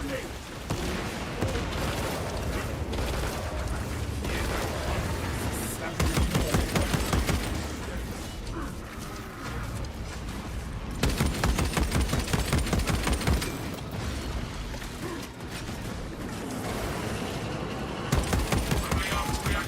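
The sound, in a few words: frag grenade firing and gunfire in a video game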